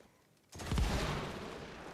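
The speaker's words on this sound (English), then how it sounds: "Those are glorious explosions." A retro video game explosion booms out suddenly after a quiet moment, a loud rumbling burst that rolls on and slowly decays.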